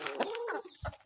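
A few soft clucks and short calls from native chickens, close but quiet, in a quick burst.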